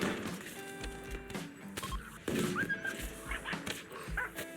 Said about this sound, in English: the dogs are hungry for more chicken